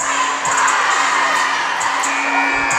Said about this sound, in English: Crowd raucous.